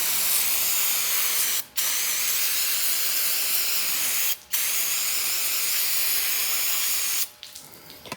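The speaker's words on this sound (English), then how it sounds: "But Nick, you're spraying the plastic with the brake cleaner." Brake cleaner is sprayed onto a plastic valve cover in three long, loud hissing bursts separated by brief pauses, close to the listener.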